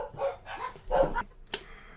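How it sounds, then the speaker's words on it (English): Dogs bark at someone arriving at the front door, a few loud close woofs in quick succession followed by a sharp single yap, with no talking over them. "You may have heard some dogs."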